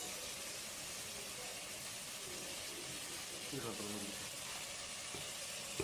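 Vegetables for biryani sizzling and frying in a pan as they are stirred, a steady hiss throughout with a few soft scraping knocks near the end.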